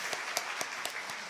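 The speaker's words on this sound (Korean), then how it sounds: "행복한 믿음의 가정이들하고 격려의 박수로 해드리도록 하겠습니다." Congregation at a Sunday worship service giving encouraging applause to a newlywed couple, a fairly faint, even patter of many hands with a few sharper individual claps standing out.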